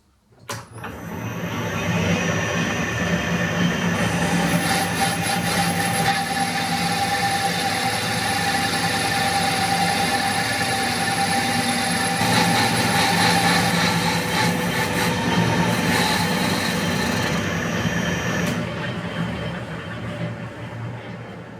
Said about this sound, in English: adjust those change gears, are a bit noisy